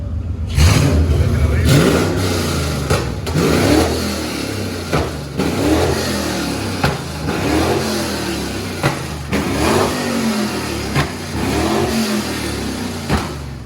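An Infiniti G37 engine with open headers revs hard and loud with a raw, unmuffled roar, spitting flames, rising and falling in repeated bursts while people talk nearby.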